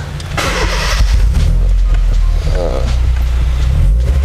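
A Honda Jazz GD3 engine with an aftermarket Fujit exhaust revs up and holds a deep, throaty rumble close by, steady and loud throughout.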